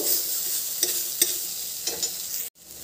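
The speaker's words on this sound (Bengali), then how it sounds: "আবারও ভেজে নেব, আবার একটু নেড়ে করে দেবো" Pointed gourd with chana dal and onion frying in a pan: a soft, steady sizzle broken by a few spoon taps as it is stirred, fairly quiet and close, then a brief sudden dip near the end.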